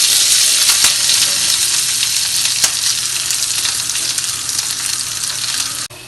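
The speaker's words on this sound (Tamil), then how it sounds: "இப்போ கொஞ்சம் கருவேப்பிலை போட்டு அடுத்தது இந்த வெங்காயத்தையும் அதில் போட்டு நல்லா வதக்கிடுவோம்." Onions and curry leaves sauté in hot oil in a pan, giving a loud, close, continuous sizzle that holds steady throughout with no talking.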